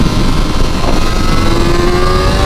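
Kawasaki ZX-4RR sport bike screaming on a race track in Calafat, northern Spain, its engine held hard at the rev limiter in a loud, continuous high-pitched wail with steady wind roar, no voices.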